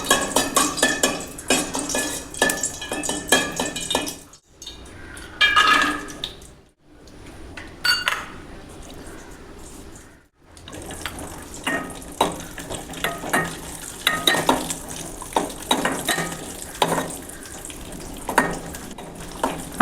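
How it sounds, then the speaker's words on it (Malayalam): Cashews fry in hot ghee in a pan with a continuous crackling sizzle, broken by stirring clinks and scrapes and two brief quiet pauses, heard up close. "ഒരു പാത്രം അടുപ്പിൽ വെച്ച് 2 ടീസ്പൂൺ നെയ്യ് ചൂടാക്കി അണ്ടിപ്പരിപ്പ് ചേർക്കാം"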